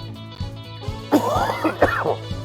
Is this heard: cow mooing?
no